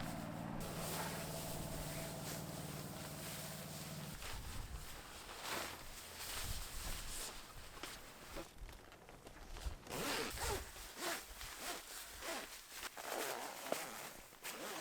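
A tent's floor zipper is pulled closed to fasten the groundsheet. Long, rapid zipping rasps repeat close by over several seconds, with soft fabric rustling and handling noises between the pulls.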